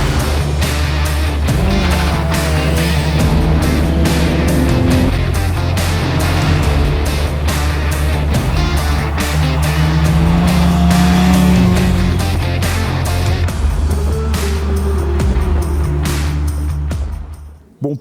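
A vintage Crossley 92F Formula 3 race car engine drones loudly and steadily with rising and falling revs and sharp tonal whines, continuous throughout, cutting off abruptly at the end.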